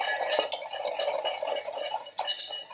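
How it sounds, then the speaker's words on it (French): Sugar and cornstarch stirred together in a bowl for a custard cream, a close, continuous scraping and clinking of a utensil against the bowl with a couple of sharper knocks. "Je vais mélanger mon sucre et ma maïzena"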